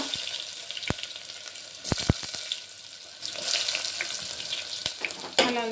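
Dried red chilies, asafoetida and chopped onion frying in hot oil, a steady crackling sizzle punctuated by several sharp pops and clatters of stirring, with a brief splash of water near the end.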